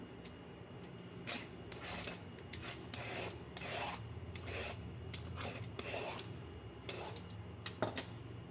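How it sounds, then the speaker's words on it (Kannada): A knife or peeler scrapes the fibrous ridges off ridge gourds, giving quick irregular rasping strokes in short bursts, close and fairly quiet, with no talk over it. "ಈ ಥರ ಇದರಲ್ಲಿ ಬರೀ ನಾರು ಮಾತ್ರ ತೆಕ್ಕೊಳ್ತೀನಿ ಸಿಪ್ಪೆ ಏನು ಪೂರ್ತಿ ತೆಗೆಯೋದು ಬೇಡ"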